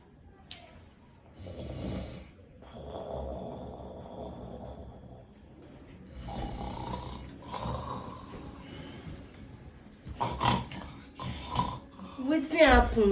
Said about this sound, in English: Why you dey snore like that now?